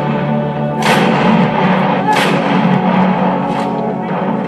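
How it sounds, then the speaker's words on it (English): Heavy artillery and mortar fire booming in a battle sound effect, several loud thuds and blasts over a dense rumbling background, with a voice narrating over it. "Under heavy enemy artillery and mortar fire, Captain Nair climbed up those heights"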